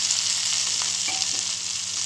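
Ivy gourd, small shallots and tomatoes sautéing in a hot pan for a Tamil chutney, a steady close sizzle with faint stirring scrapes, no talking.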